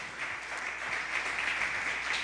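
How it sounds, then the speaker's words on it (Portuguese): Congregation applauding during a church service, a steady wash of many hands clapping throughout, fairly faint and distant, with no talk over it. "vamos aplaudir aquilo que Jesus fez por nós"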